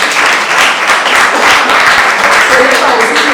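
Audience applause for Madame Delabo at an anniversary ceremony, a dense steady wash of many hands clapping close and loud for the full few seconds.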